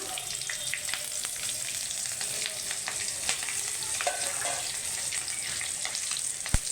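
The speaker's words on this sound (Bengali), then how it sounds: "প্রথমে কালো জিরেটা হাতে ডলিয়ে রেখেছিলাম ঘষটিয়ে, এটা দিয়ে দিলাম। আর দুটো চেরা কাঁচা লঙ্কা দিলাম সেন্টের জন্য।" Nigella seeds and slit green chillies sizzle in hot oil for a Bengali hilsa fish curry, making a loud, constant crackling hiss with scattered sharp pops and no voices.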